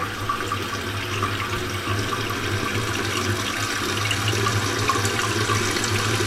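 A toilet tank refills after a new float has been installed, giving a steady, loud rush of running water that continues unbroken throughout, with no voices over it.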